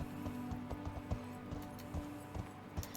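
A horse trots in a riding lesson, hooves striking in a quick, regular two-beat clip-clop, fairly close, with only faint background sound.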